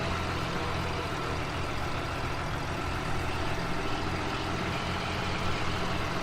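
A vehicle engine in Farming Simulator 17 runs with a steady, rough grinding drone, a constant low rumble holding evenly throughout with no talk over it.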